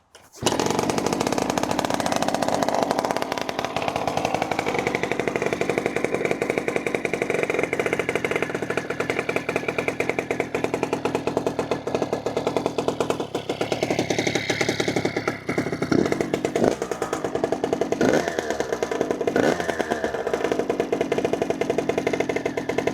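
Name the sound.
motorcycle engine started with choke, running and idling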